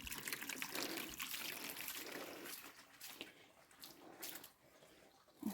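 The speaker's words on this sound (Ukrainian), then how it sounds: "Ой, знову відро повне. Як стоїш над ним, так повільно набирається." Water trickles slowly and steadily into a full bucket outdoors in a garden, a faint, continuous splashing dribble heard close up with no talk.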